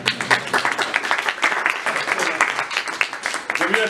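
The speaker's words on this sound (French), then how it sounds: "Donc on peut encore une fois l'applaudir." Applause from an audience at a French association's monthly meeting, a busy, steady spread of many hands clapping, fairly close, with a faint voice near the end.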